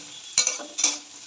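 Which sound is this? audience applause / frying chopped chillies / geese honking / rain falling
frying chopped chillies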